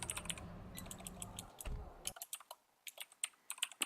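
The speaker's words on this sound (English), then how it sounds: "when I hit spacebar to put the space in the name there" Keys clatter rapidly on a computer keyboard as a name is typed in a retail simulator game, with a spacebar press among them; a dense run of clicks over game background sound gives way to sparser, sharper taps.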